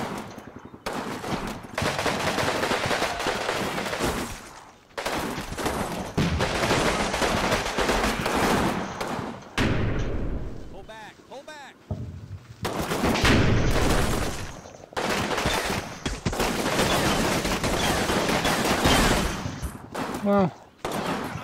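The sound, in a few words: gunfire from Combat Mission video game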